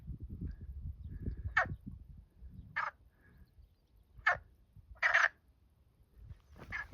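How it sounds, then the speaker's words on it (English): Frogs call near concrete irrigation channels along a long straight road on the Camino between León and Puente de Orbigo, a few short croaking bursts spaced apart over low rumbling background noise. "And frogs."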